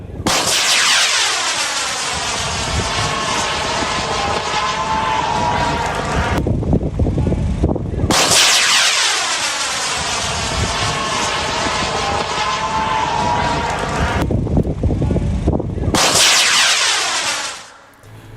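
Test firing of India's Bhargavastra anti-drone system: loud, sustained roaring bursts that sweep downward in pitch, three long blasts in succession separated by brief gaps, close and powerful.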